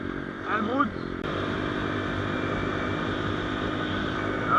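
A Hurricane V2 Nitro Motors 250cc dirt bike engine runs and stutters unevenly on its carburettor, a rough close drone with a brief rev and someone talking early on.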